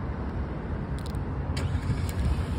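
A 2024 Hyundai Palisade starting remotely, its engine turning over and settling into a steady low idle nearby, with a few faint clicks and chirps on top.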